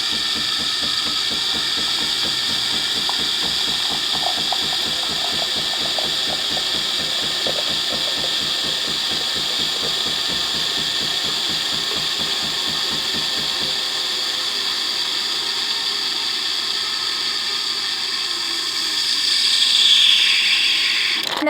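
Jura E6 super automatic espresso machine making a milk-based drink: a rapid rhythmic pump pulsing and mechanical whir for a long stretch, then a steadier hiss and a brief louder surge of steam near the end.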